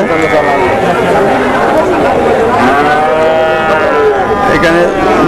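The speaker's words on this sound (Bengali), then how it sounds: "এখানে দু একটা গরু আছে।" Cattle at a village livestock market lowing loudly and close, long drawn moos overlapping one another amid background crowd chatter and voices.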